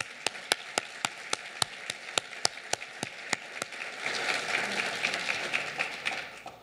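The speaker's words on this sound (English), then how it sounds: "Let's give him a round of applause." Applause at a university founders convocation: a single person's sharp, evenly spaced claps come first, then the crowd joins in a broad, dense wave of clapping that gradually fades.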